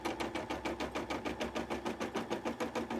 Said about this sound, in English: I'll leave you with the calming sounds of embroidery machine.